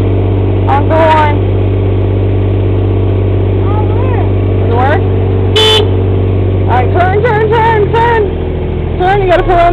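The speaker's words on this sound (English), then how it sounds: "Honk the horn." A car horn gives several short honks in clusters over a steady idling engine, loud and close, with people talking around the toots.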